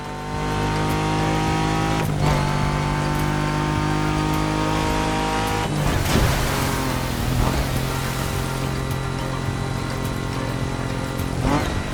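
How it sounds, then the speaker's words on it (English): A 1967 Volkswagen Beetle Rally Raid version races off-road in the video game The Crew Motorfest, its engine droning loud and steady, with gear-shift dips and rising revs near six and eleven seconds. "The 1967 Volkswagen Beetle Rally Raid version."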